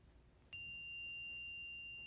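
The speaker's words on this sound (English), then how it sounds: "I'd like to invite the chime to sing" A meditation chime is struck once to open a practice session, giving a soft onset followed by a steady, clear ringing tone that sustains faintly on its own.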